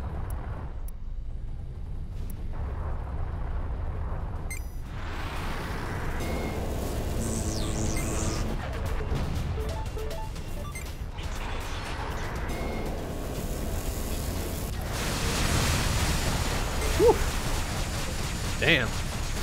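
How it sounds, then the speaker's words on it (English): A flak cannon fires in the space-combat game Everspace, with rapid bursts and rumbling explosions that build and fade over continuous game noise. A voice talks at times. "flak cannon doing some business"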